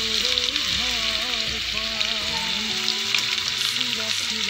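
Fenugreek seeds frying in hot oil for an Assamese home-cooked fish dish, giving a steady, close sizzle with faint stirring, no voices.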